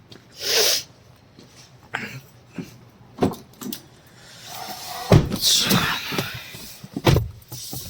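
A car door is opened and then shut as someone gets in for a driving lesson, with a few sharp clunks and some rustling close by and no talking.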